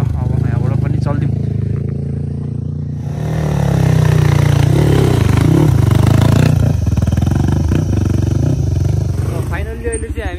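Motorcycles rumble and rev nearby while being parked at Deurali on the Mardi Himal trek, engines idling loud and steady with clattering in between, and people talking throughout.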